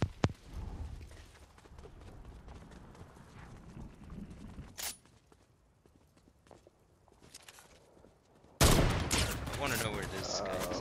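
Video game gunshots ring out in scattered sharp cracks with footstep-like clatter between them, quieter in the middle, then a loud dense burst of fire erupts near the end; voices talk over parts of it.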